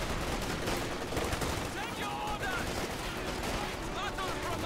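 Rapid gunfire and bursts of shooting in a Company of Heroes 2 urban battle, dense crackling shots mixed with game noise and someone talking over it.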